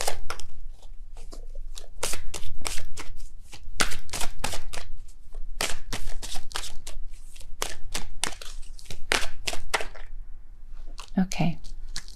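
Tarot cards are shuffled close up in quick, loud riffles and slaps, running almost continuously under a voice talking.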